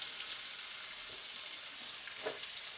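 Onions caramelising slowly over low heat in a pan give a steady, soft sizzle with faint stirring scrapes, continuous and fairly quiet throughout.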